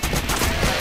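The player's gun firing in the top-down shooter game Crimsonland: a dense, continuous burst of rapid shots, loud and close, with no pauses in the brief stretch.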